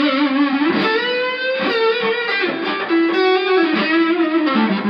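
An ESP LTD electric guitar through a high-gain amp channel plays sustained, heavily distorted notes and chords, thick and buzzing, shifting pitch every second or so, with no talking.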